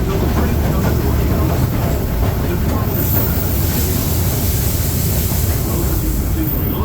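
A Disneyland Railroad train pulls into New Orleans Square station with a loud, steady rumble and rattle of cars on the track, continuing unbroken throughout.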